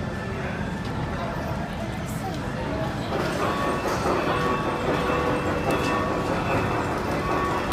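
A small model train pulls up through a pure-vegetarian restaurant in India with a steady rattling, clattering run over restaurant chatter and background bustle, constant and moderately loud throughout.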